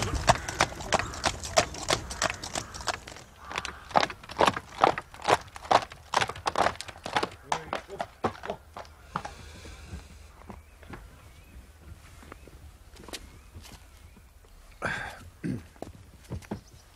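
Horse hooves clip-clop in a steady walking rhythm for several seconds, close and fairly loud, then thin out to a few scattered knocks amid quieter background noise.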